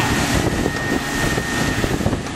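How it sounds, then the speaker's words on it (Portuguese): A hand-steered outboard motor on a boat runs steadily close by, its engine drone mixed with wind buffeting the microphone, with no speech over it. "Também tem outro barco. Agora com o motor na mão."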